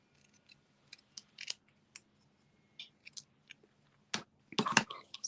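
Scissors snipping through paper die cuts at a craft table, a series of short crisp cuts in irregular bursts, sparse at first and then a denser cluster of snips near the end, close and fairly quiet.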